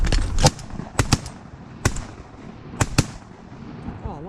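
Shotgun blasts during a waterfowl hunt ring out close and loud, about six sharp reports in quick irregular bursts, some doubled, each with a short outdoor echo and no talking over them.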